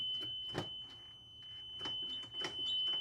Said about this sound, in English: Hit a reverse buzzer